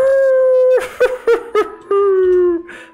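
A person imitates a wolf with a loud, close howl: a long sustained tone broken into several short wavering yips near the middle, then a final drawn-out falling note, with no other sound around it.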